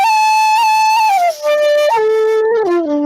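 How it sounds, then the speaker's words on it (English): A Chinese xiao, an end-blown woodwind flute, plays a slow melodic line of sustained, breathy tones. The notes step gradually downward, with a brief dip between phrases, and sound alone and clear without any voices. "so that's the sound of the xiao."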